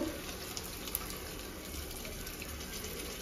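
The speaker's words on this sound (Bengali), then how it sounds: "এবারে জল দিয়ে দিব" Water poured into a pan of jackfruit cooking in oil, a steady broadband pour running throughout without pause, fairly faint and close.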